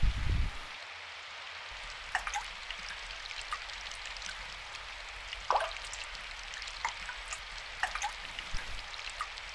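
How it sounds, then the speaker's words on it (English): Rain hits a gutter in a visual novel scene: a steady, soft hiss of falling water with scattered light drips and taps throughout, with no talk. "There was a soft sound of flowing water, the sound of rain hitting the gutter."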